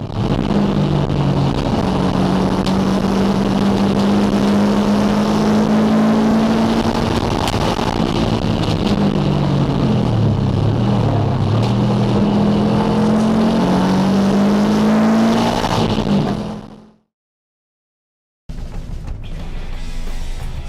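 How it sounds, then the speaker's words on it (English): A loud, steady engine roar from a 2001 Subaru Impreza coupe with a WRX engine swap, a deep throaty exhaust drone that rises and falls slightly, running continuously before cutting out abruptly near the end. "Did you hear the noise this exhaust makes?"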